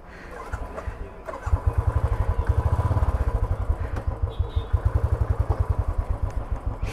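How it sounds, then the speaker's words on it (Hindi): A motorcycle on a ride from Mount Abu to Jaipur is started with a key, then settles into a steady, close, loud thumping idle of rapid regular pulses. "ये लग गई चाबी, ये होगी बाइक स्टार्ट."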